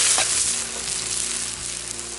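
Onion and garlic sizzle in hot oil in a pan for Chinese fried noodles, a close, steady crackling hiss with a brief stir near the start and no talking.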